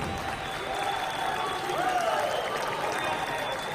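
A wrestling crowd at a professional wrestling event in Shenzhen applauds, a steady, dense wash of clapping and crowd noise that continues without a break.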